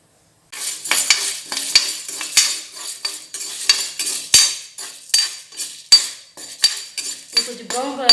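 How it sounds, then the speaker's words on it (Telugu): Lentils (dal) stirred and frying in a pan for nalleru pachadi, with repeated scraping clinks of a spoon against metal and a soft sizzle, steady rhythmic strokes up close, no talking. "కొంచెం బ్రౌన్ కలర్లో వచ్చేదాకా కొంచెం వేయించుకొని మనకి పక్కన పెట్టేసుకుందాం"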